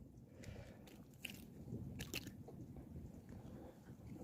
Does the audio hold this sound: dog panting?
no